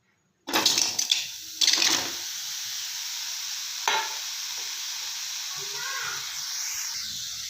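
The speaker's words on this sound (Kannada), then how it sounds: "ಚೆನ್ನಾಗಿ ಹುರ್ಕೊಳ್ಳೋಣ ಹೀರೆಕಾಯಿ" Chopped ridge gourd hitting a hot pan and frying, with a few sharp sizzling bursts that settle into a soft, faint hiss.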